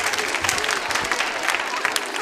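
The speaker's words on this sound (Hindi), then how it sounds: "तालियां जोरों से बजाइए प्रभु के लिए।" An audience at a college quiz show in a girls' B.Ed college applauds, a dense, lively round of many hands with a few sharper claps standing out, steady and fairly loud, with faint voices beneath.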